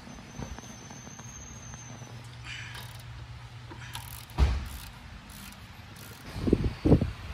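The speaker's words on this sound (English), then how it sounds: "Now I'm gonna use a jack this up to bring it closer to the new shock." A car jack raising a BMW E36 during a coilover install, faint mechanical ratcheting and clicking with a few louder metallic clunks and rattles, no talking.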